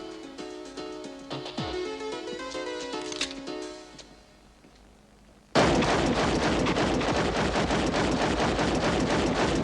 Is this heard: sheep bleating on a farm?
no